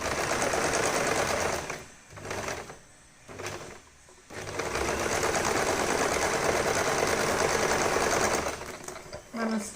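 A sewing machine stitches scrunchie fabric in a steady, close whirring run that pauses twice briefly before resuming, with faint talk in the background.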